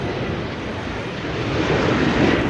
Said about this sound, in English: There's the A350.